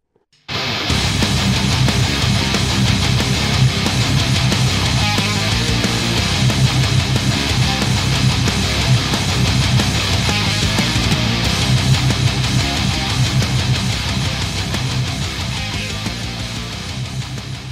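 Dense, heavily distorted rhythm guitar through Metalzone and DS1 pedals chugs steadily and loudly throughout, a thick low-end heavy metal riff with no voices, tapering slightly at the end.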